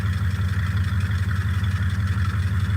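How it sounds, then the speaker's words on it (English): A Plymouth Fury II's exhaust idles nearby with a steady, rumbling low pulse, loud and continuous with no talking. "Now listen to this exhaust."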